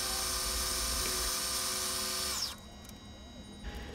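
A sharp new end mill whines steadily as it cuts metal in a drill press, a loud sustained high-pitched drone that drops away abruptly partway through, leaving a quieter hum.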